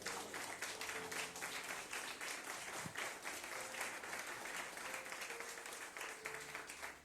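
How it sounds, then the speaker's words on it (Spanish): Continuous clapping from a church congregation during a Spanish-language sermon, a steady dense crackle of many hands lasting about seven seconds over faint background music, with no talk. "Dale ese aplauso al Rey."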